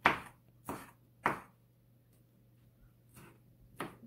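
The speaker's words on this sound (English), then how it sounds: "This is how we're chopping it up." Shrimp is chopped for ceviche with a knife on a cutting board, sharp wooden knocks falling in an uneven rhythm of about six strikes, close and alone.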